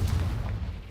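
Confringo fire spell blasting in Hogwarts Legacy, a heavy, rumbling explosion boom that fills the whole moment, loud and close with no talk.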